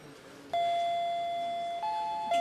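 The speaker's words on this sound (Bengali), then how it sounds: "এই দেখ, তোমার কি এলো? Calling bell" An electronic doorbell chimes indoors in a home, a clear sustained two-tone ding-dong that holds steady, then briefly shifts pitch before a second press cuts in at the end; no talk.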